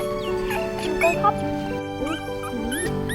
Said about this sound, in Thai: เออเหมือนเสียงลูกหมาเลยอะ